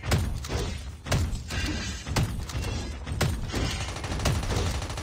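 Rapid bursts of gunfire ring out in a shooting video game, loud repeated cracks and thumps in uneven clusters over a busy background.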